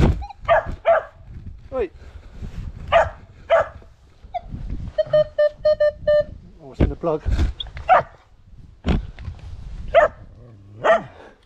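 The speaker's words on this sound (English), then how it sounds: "It's not cows, it's dogs." Dogs barking repeatedly in short bursts outdoors during metal detecting, loud and near, interleaved with people talking, and a brief electronic beeping tone mid-clip.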